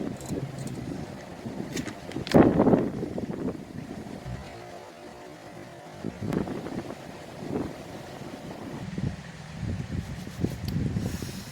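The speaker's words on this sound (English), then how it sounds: "Sorry, it's so windy." Gusty wind buffeting the microphone in uneven rumbling bursts, loudest early on, with low roaring noise throughout and no clear voices.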